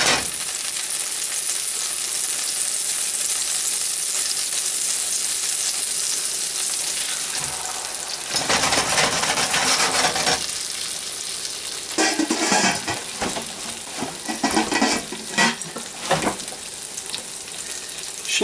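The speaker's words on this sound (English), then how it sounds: "Alright, pancakes are cooking. There's the schnitzel." Schnitzel and pancakes frying together in a pan, a steady close broadband sizzle with bursts of louder crackling and spitting toward the end.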